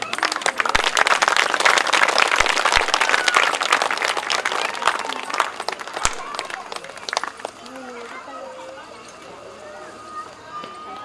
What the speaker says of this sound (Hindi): तालियां कम मत, आप बहुत कम बजा रहे हैं।